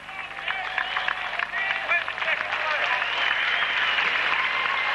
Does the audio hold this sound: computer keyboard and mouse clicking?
no